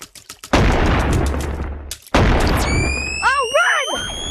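Gunfire in the video game Animal Company: several sharp bursts of shots close together, followed by loud sustained blasts and rising synthetic tones, with a brief gap between volleys.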